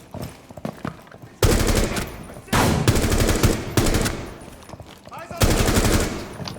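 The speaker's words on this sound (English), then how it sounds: "Always fire in short bursts." Rainbow Six Siege gunfire comes in four loud, sharp automatic bursts of roughly a second each, separated by short gaps with faint shuffling movement, close and dominant.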